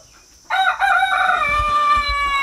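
Chickens inside a chicken coop, with a rooster crowing loudly and clearly after a brief quiet start, the call held for about two seconds.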